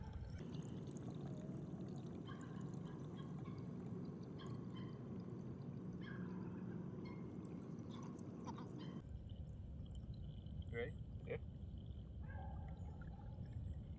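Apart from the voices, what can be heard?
water filtering through pressurized jerry can filter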